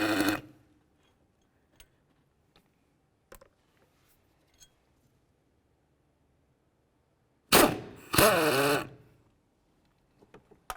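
Engine mount bolts coming off a 2002-2006 Honda CR-V: quiet sparse clicks and taps of tools, then two loud, close bursts of a power tool spinning, the second one wavering in pitch.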